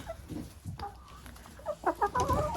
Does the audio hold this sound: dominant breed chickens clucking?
yes